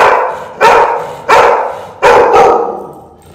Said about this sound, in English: He barks a lot.